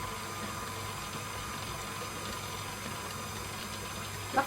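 A stand mixer runs on slow speed as boiling water with vanilla extract is added to gluten- and dairy-free chocolate cake batter, a steady even whirring hum with no talking.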